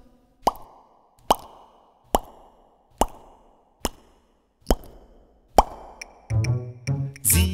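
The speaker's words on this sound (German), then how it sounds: "sie hört siebenmal ein ganz leises Plopp" Seven soft, evenly spaced plops ring out one after another in a quiet setting, each a short rounded pop with a brief tail, followed by a denser burst of muffled sound at the end.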